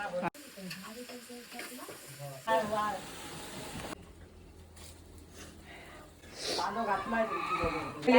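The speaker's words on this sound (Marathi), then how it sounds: "आता मावशी कांदो घालतली या." Chopped onion sizzling in hot oil with a chili tempering rises and falls alongside people talking, with a sharp hiss breaking out near the end.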